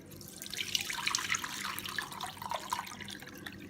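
Mint leaves soaked for two hours for a pudina squash are strained, giving a close, continuous trickle and dripping of liquid for a few seconds, with no talking.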